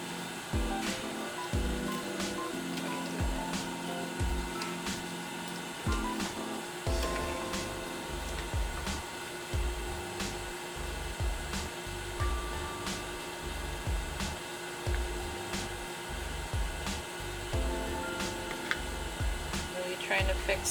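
A sewing machine stitching pleats into a bishop sleeve runs in a steady mechanical whir with quick rhythmic ticking. It holds an even, close level throughout with brief pauses and restarts.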